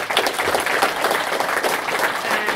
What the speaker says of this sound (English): So just a clap for that.